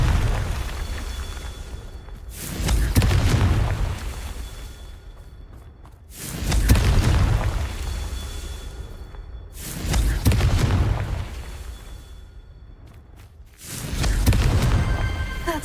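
The Confringo spell fires in Hogwarts Legacy as four heavy, booming blasts about every four seconds, each a deep rumbling burst that swells and then fades.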